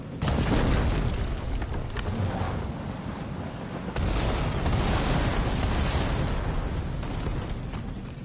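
Video game explosions in Horizon: loud, continuous rumbling booms and blasts with a broad roar that swells and lingers over several seconds.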